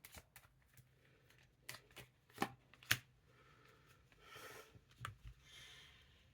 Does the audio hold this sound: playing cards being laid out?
yes